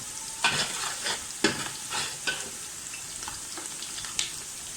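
Onions frying in a pan for vegetable rice, a continuous close hiss of oil with a few sharp spatula scrapes and stirring knocks spread through it, no talking.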